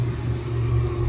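A turbocharged 6.0 LS V8 with a VS Racing turbo, high-ram intake, Holley EFI and Vitek throttle body runs on a dyno, giving a loud, steady, deep engine drone held at constant revs for about a second.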